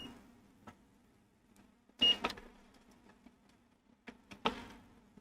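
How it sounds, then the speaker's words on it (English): A multimeter gives short continuity beeps as its probe is shorted against a fuse on a game console board, with faint clicks of probe contact, close up in an otherwise quiet room. "I just short the probe with this fuse and that's why it beeps."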